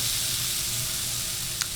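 Food sizzles steadily in oil on a Blackstone 22-inch griddle, with a constant close crackling hiss and one small pop near the end.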